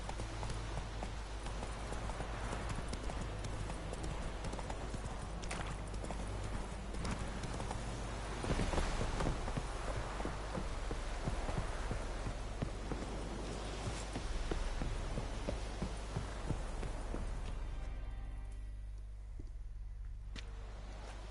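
A horse gallops steadily in The Witcher video game, its rhythmic clip-clop hoofbeats running continuously and fairly loud before easing off near the end.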